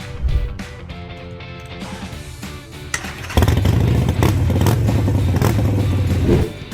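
Harley-Davidson Iron 883 motorcycle engine starting with a few sputters, then settling into a loud, lumpy idle with a short rev before cutting off.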